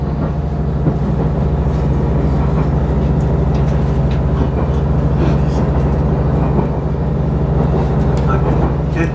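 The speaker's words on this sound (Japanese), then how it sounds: "列車は今、安曇追分という駅を通過しております。" Interior rumble of an HB-E300 Resort View Furusato hybrid train passing through Azumi-Oiwake station, a loud, constant low drone with engine hum and faint rattles throughout, with a voice talking in the background.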